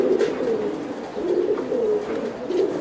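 Racer pigeons coo in a repeated throaty rhythm, several soft rolling calls close by, with no talk over them.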